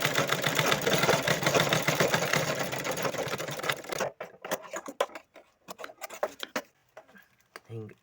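A sewing machine stitches bag fabric with a rapid, loud mechanical rattle for about four seconds, then stops, leaving scattered clicks and handling noises.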